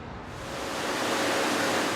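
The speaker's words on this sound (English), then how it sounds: "waterfalls pour into reflecting pools in the footprints of the north and south towers of the World Trade Center" Waterfalls pour into reflecting pools in the footprints of the north and south towers at the 9/11 memorial in New York, a steady broad rushing of water that swells slightly and stays constant, with no voices.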